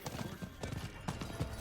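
Horse hooves clip-clop in a Diablo 4 game scene, a quick run of soft, evenly spaced hoof knocks heard faintly in the background.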